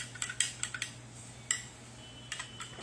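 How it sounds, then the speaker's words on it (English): A rum cocktail is stirred in a glass, with a series of light, sharp clinks and taps of a spoon against glass coming in irregular short bursts over a quiet low hum. "Give it a little stir to incorporate, emulsify"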